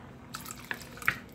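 Water poured from a container into a pot of rice for arroz con gandules in a home kitchen, heard as a few quiet splashes and drips, with brief louder bursts near the end and no talking.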